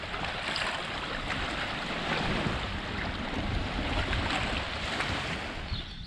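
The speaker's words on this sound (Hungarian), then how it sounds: "Itt pedig van egy kis befolyó, valami patak csörgedez bele a tengerbe." A small brook trickles into the sea on the Greek coast near Vrasna, a steady broadband wash of running water and lapping surf, with gusts of wind buffeting the microphone throughout.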